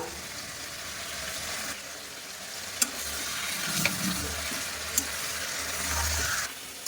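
Rice frying with butter and salt in a pan, a soft steady sizzle with stirring and a few sharp spoon taps against the pan, no talking.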